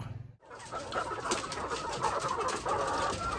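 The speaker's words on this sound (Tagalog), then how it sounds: "So ito na yung mga ready to lay natin mga ka-farmers o RTL na mga white leghorn." Ready-to-lay white leghorn hens cluck and murmur together at close range, a steady soft flock chatter with no voices over it.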